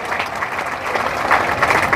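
A crowd at an AIMIM election rally in Sheohar claps loudly to welcome politicians: dense, sustained applause with no break and a few louder swells.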